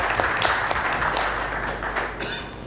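Audience applause at a smart city conference in Bhopal, a short burst of steady clapping at moderate level that tapers slightly toward the end, with no speech over it.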